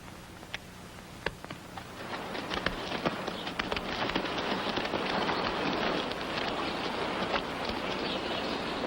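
Steady rain pours down with a dense hiss that thickens over time, with a few sharp drip or tap sounds near the start and no talking.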